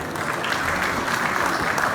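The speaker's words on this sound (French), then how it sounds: "je vous demande d'applaudir." Applause from the audience at an industry conference in Tangier: a steady, even patter of many hands clapping, moderately close, with no pauses across the stretch.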